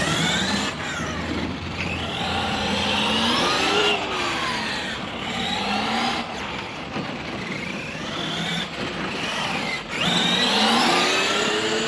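A small MCD XR5 motorcycle engine revving hard and holding near the top of its rev range on a first run, a loud, continuous buzzing whine that rises and falls in repeated sweeps.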